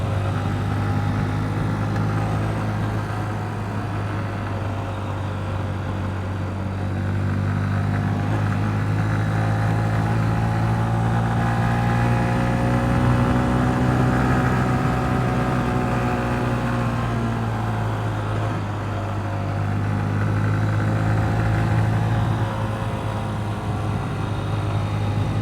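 A Honda CB125F motorcycle rides along a gravel road, its small single-cylinder engine droning steadily and close up, the pitch sagging and rising gently as the bike slows and picks up speed, with wind and road rumble underneath.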